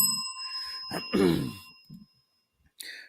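A small bell rings out as a cheer, its clear sustained tone starting at once and decaying over a couple of seconds, with a cough and a short second ring near the end.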